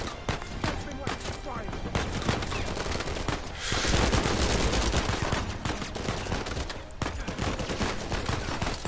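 Enemy gunfire in the Uncharted 4 video game: rapid, dense bursts of shots that swell into a loud sustained volley midway, with a player talking over it.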